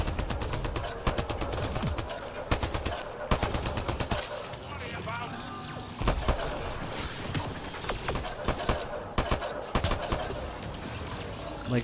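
Automatic weapons fire in bursts during combat in Mass Effect: Andromeda, loud close rattling volleys with brief gaps between them, layered with other battle noise and some speech-like sound underneath.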